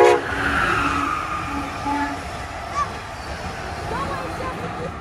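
An Amtrak Keystone passenger train led by a Veteran unit locomotive passes, with short horn blasts over a steady rolling rumble fading as it goes by. Voices can be heard faintly under the train noise.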